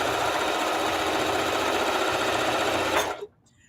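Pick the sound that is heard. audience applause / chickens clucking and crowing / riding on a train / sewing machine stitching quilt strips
sewing machine stitching quilt strips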